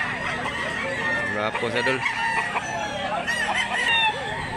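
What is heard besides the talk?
rooster crowing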